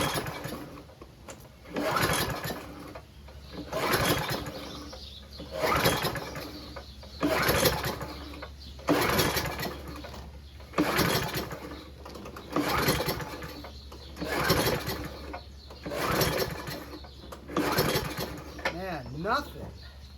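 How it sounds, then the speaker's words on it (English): A Briggs 6.5HP small engine on a Scotts by John Deere mower, fitted with a new carburetor, is cranked by a recoil starter: about nine rhythmic pull-and-whir bursts without firing, loud and close, with no talk over them. "So I don't think this is going to start, but we're going to see if it turns over."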